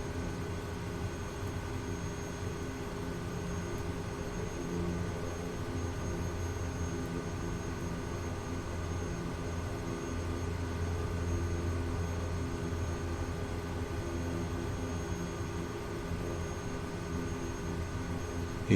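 A Kodiak aircraft engine in a flight simulator hums as a steady, even drone with no change in pitch or level, with no one speaking over it.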